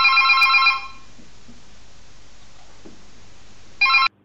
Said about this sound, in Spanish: Pilarita Dinamitera, que tengo que coger el teléfono